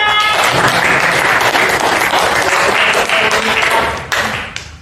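Audience applause at a teacher training session on Islamic ethics, dense steady clapping from a group filling the room, then thinning and fading toward the end.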